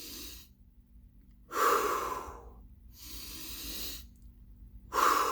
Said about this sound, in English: you can start practicing by simply breathing in your nose and then letting it out when you pull that trigger out your